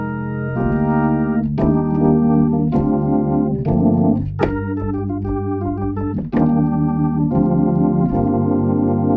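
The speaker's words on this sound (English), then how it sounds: "We've got all sorts of things to create really cool B3 organs that sound." Software plugin B3 organ playing sustained chords and shifting notes continuously, a full bright drawbar tone with slight percussive attacks on each change, loud and alone with no voices.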